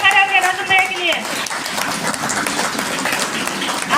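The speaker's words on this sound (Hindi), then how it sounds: "जबरदस्त ताली, खड़े होंगे अपने अपने सीट पर खड़े होंगे रसम भैया के लिए।" Audience applause for Rasam Bhaiya at a DXN business gathering: dense, steady clapping from a crowd that fills the room for several seconds, following a brief burst of music and voice at the start.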